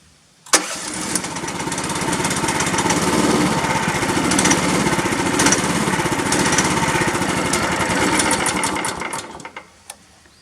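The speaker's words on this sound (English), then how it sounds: "I got it to where it would run just a little bit, but it would still not idle" Small engine on a FrontierMill sawmill with the air filter off and a faulty carburetor, sputtering to life and running rough and uneven for several seconds without settling to an idle, then dying out; loud and close, no voices.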